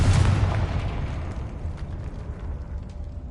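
Confringo fire spell blast in the Hogwarts Legacy video game: a heavy, booming burst up front that rolls into a long, rumbling decay, loud and close with no voices over it.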